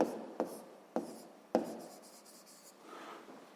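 Pen or chalk writing out a math expression, with a few sharp taps as strokes begin and a light scratching, rubbing scrawl between them, quiet and close with no talk.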